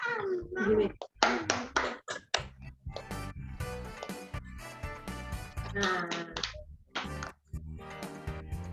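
Rhythmic scout-style group clapping at a church service in sharp, patterned bursts, close and fairly loud, mixed with a voice speaking between the claps.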